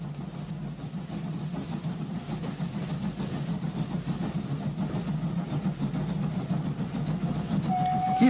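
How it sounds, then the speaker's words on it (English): A heritage train on the Llangollen Railway runs up the River Dee valley in Wales, giving a steady low rumble and rolling wheel noise at moderate distance, with a brief high whistle-like tone near the end. "The train heads up the valley of the River Dee."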